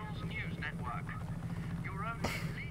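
Helicopter in the Just Cause 3 video game, a steady low rotor drone that holds under a voice, joined by a brief sharp burst near the end.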